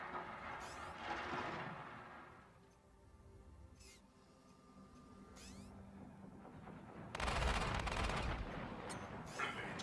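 Missiles strike in a vehicle combat video game, a rumbling mix of blasts and rattling impacts that swells louder toward the end, with engine drone underneath.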